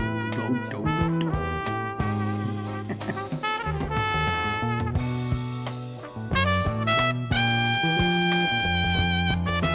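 A bass line drives a song, sounding as a deep, rhythmic pulse beneath a full band mix with horns and other instruments, playing loud and continuous.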